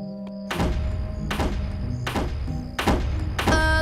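Hard knocks land on a door in a cartoon, four heavy thuds spaced about a second apart over soft background music.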